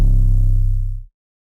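A single deep 808 bass drum hit from the Hot Damn sound kit, booming and sustained with a slight wobble, then cutting off abruptly after about a second.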